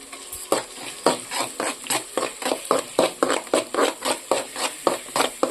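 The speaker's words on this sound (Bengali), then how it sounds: "তো মশলাটা তখন একটু হালকা করে ভেজে নিই।" Spice paste for a Malayali-style fish curry frying in a pan, with a steady sizzle and rhythmic scraping strokes of a spatula stirring it, close and clear with no talking.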